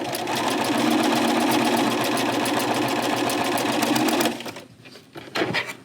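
A sewing machine stitches fabric pieces for a pieced flower quilt block in a fast, even mechanical chatter, close and loud for about four seconds, then stops abruptly, followed by a few faint handling clicks.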